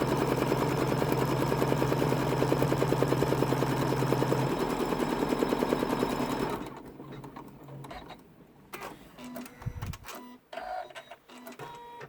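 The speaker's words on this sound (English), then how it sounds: "we are also stitching 2 lines which help us fold the base of the bag or purse into the correct area" An embroidery machine stitches lines on a curved zip pouch, a fast steady mechanical rattle for about six seconds that stops abruptly, followed by scattered clicks and handling noises.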